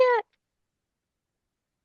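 A cat gives a single short, clear meow at the very start, followed by complete silence.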